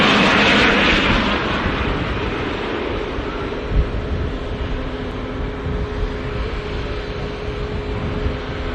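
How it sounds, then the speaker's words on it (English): Virgin Atlantic Airbus A350 jet at an airport, a broad steady roar with whooshing wind and a low engine drone throughout, loudest in the opening second and then holding fairly level, with no talking. "What a beautiful aircraft. Virgin Airbus A350."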